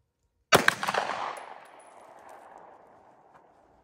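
A single sharp shot from a CZ Shadow 2 pistol fitted with a ported barrel, a loud crack followed by a long ringing decay with reverberation, heard alone.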